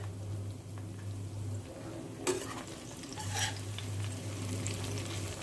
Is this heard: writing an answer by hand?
no